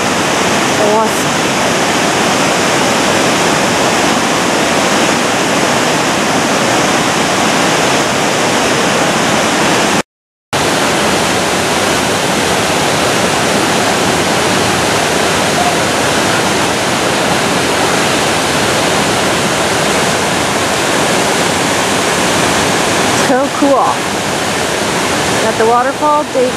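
A powerful waterfall seen on an Alaska cruise roars as a loud, constant rush of water that fills the whole scene, broken only by one brief dropout.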